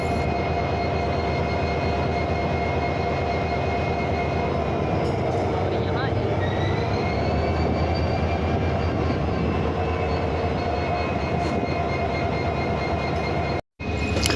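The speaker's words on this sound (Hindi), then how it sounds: "यहाँ पर अभी सिर्फ इंजन को आगे पीछे किया जा रहा है" A railway locomotive shunts back and forth on track near Nirmali station during a speed trial, producing a loud, steady, close rumble with a rising whine, while a voice talks over it.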